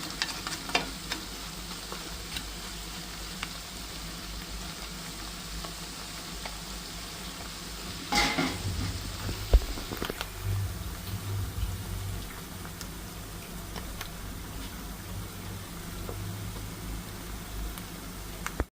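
Homemade herbal hair oil boiling in a pot on the stove, a constant fine crackling hiss of frying with a louder, busier bubbling stretch in the middle, heard close and without voices.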